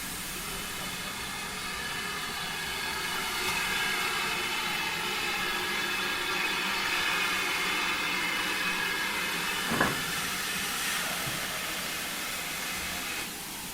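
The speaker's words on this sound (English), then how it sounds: "Another tank engine has just pulled into the platform. It is about to be joined by a tender locomotive that is slowly reversing." Steam locomotives stand at a heritage railway platform during an autumn steam gala as a tank engine waits and a tender locomotive slowly reverses, giving a continuous steady hiss of steam with one brief sharp clank partway through.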